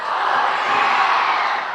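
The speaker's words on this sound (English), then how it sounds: "Crowd's really getting into it." A high school varsity football crowd roars with broad, sustained cheering and whooping, loud and continuous with no single voice picked out.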